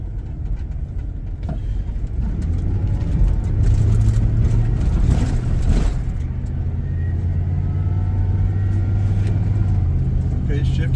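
A 2000 Express 2500 van with a 5.7 engine and L480E automatic transmission accelerates from a low engine drone that rises in pitch, then drops at a gear change before climbing again, heard from inside the cab with someone speaking over it.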